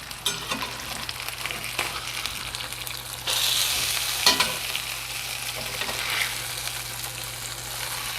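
Sesame glazed salmon frying in a pan after being flipped, a continuous crackling sizzle with a few sharp clatters and a louder burst of spitting partway through, no talking.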